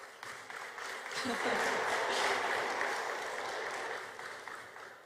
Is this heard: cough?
no